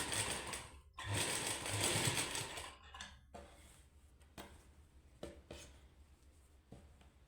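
Sewing machine stitching lace onto the edge of a suit, a fast steady whirring run for about three seconds, then softer intermittent stitching with small clicks and pauses, close and alone.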